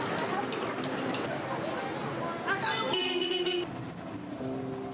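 Car horns toot a few times on a busy street, short bright honks over steady traffic noise and background voices.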